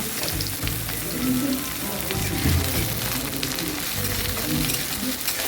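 Chopped onion and garlic fry in a pan with dried chilies as they are stirred, a steady close sizzle with scraping strokes throughout and no talk.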